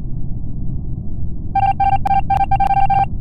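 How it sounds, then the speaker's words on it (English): Among Us impostor ejection sound effect from the video game: a run of short, bright electronic tonal beeps arriving in quick clustered bursts, heard over a steady low rumbling bed. "the sound effect of when you eject the imposter sounds like this"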